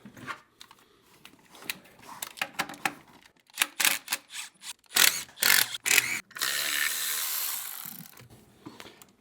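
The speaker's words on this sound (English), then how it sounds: "Last one I had to use the ratchet, wasn't enough room." A ratchet loosens coil bracket bolts on a truck's valve cover, giving quick runs of close, dry clicks and a brief rustle of handling, with a longer scratchy burst near the end.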